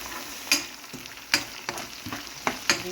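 Frozen peas, carrot and corn sautéing in a pan, a close steady sizzle punctuated by five or six crisp spatula scrapes in quick succession, no speech.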